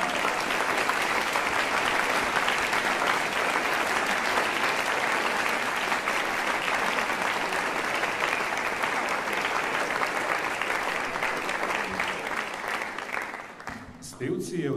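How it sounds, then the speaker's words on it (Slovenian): Steady, dense applause from the audience at a student choir's annual concert, a continuous even wash of clapping that tapers off near the end. "En aplavz, prosim."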